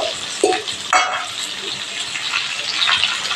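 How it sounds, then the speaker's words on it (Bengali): Water is poured into spices frying in oil with potato and pointed gourd, setting off a sharp hiss and sizzle around the pour, then a continuous frying crackle. "একটু জল দেবো।"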